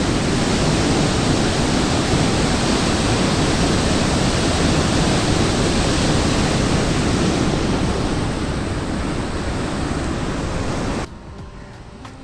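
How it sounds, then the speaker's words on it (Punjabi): Loud, steady roar of river water rushing through open flood gates at Harike Headworks, Punjab, pours continuously, a dense broadband wash that cuts off abruptly near the end. "ਆਵਾਜ਼ ਸੁਣੋ ਪਾਣੀ ਦੀ ਕਿੰਨੀ ਆ ਰਹੀ ਹੈ ਇਸ ਟਾਈਮ"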